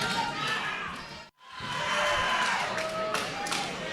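A wrestling crowd cheers at a pro wrestling match, a dense, constant roar of voices that drops out for an instant and then swells back up.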